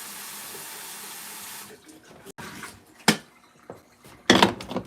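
Water pours steadily from a kitchen tap for a couple of seconds, then cuts off, followed by a few sharp clatters and knocks of a pot or dishes being handled in the sink.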